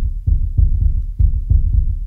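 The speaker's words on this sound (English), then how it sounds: "here on our rumble track," Low, booming rumble track from a music mix, pulsing in heavy thuds about twice a second like a deep heartbeat, loud and close with nothing else over it.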